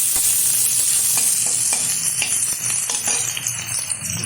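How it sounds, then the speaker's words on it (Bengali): Chopped onions frying for a chicken stew while being stirred in the pan, giving a dense close sizzle broken by irregular scraping strokes of the spoon, with no voices. "দিয়ে দেবো কুচিয়ে রাখা পেঁয়াজ। একটু নাড়াচাড়া করে নেব।"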